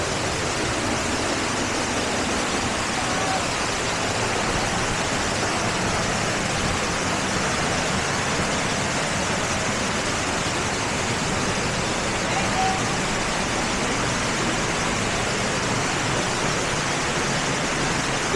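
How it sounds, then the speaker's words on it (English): A waterfall in South Wales roars with a steady, loud, broadband rush, heard from very close with no break or variation throughout. "here we are at the first waterfall"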